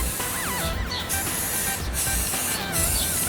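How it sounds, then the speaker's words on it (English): A MAPP gas torch flames a carved wooden figure, producing a loud, steady rushing hiss that runs throughout with only slight dips. "I used a map gas to torch his compartment"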